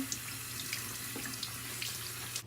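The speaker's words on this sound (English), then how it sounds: "So we're going to run the rag in some cold water." Cold tap water runs steadily onto a cloth rag at a sink, making a soft, continuous hiss with faint splashy flickers. It is fairly quiet and close, with no talking.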